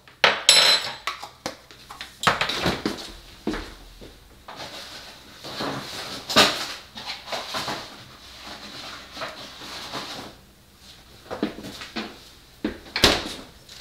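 A tablespoon scooping baking powder for carb-free bread clinks and scrapes against a bowl in repeated close, sharp metallic knocks and rattles, with short quiet gaps between them.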